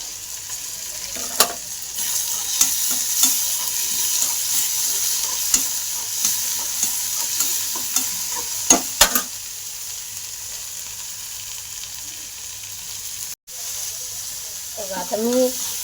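Coarse ground green chili, garlic and coriander paste with salt sautés in hot oil, a steady close sizzle with scattered scraping stir knocks through most of it, a brief dropout near the end, then a short voice.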